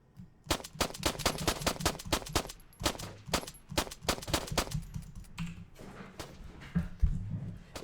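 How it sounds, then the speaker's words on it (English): Sharp rapid cracks of gunfire in the Arma 3 military simulation come in dense bursts, close and punchy, then thin out into scattered shots and quieter rumbles. "It's a sniper rifle"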